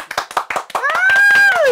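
A few people clap in short, uneven bursts, then a voice begins talking over the last claps.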